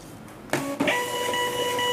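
POS printer that handles both labels and receipts printing, a sudden whirring feed starting after a quiet moment with a short mechanical clunk, then a steady high-pitched motor whine running to the end.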